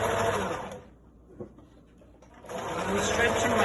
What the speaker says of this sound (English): I'm joining my elastic with zigzag stitches, and I'm stretching it as I go